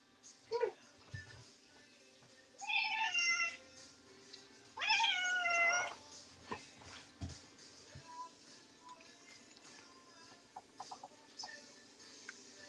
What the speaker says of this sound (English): you hear Peanut? You want to see Peanut? Come here, Peanut